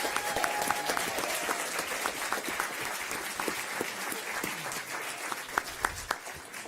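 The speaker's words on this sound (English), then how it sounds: "So let's give them a round of applause." Audience applause at a board meeting, with people standing as they clap; a steady, dense wash of many hands, fairly close, with a few louder individual claps near the end.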